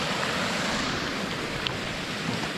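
Belye Mosty waterfall in Karelia roars as a steady, dense wash of falling water, loud and unbroken throughout with no voices.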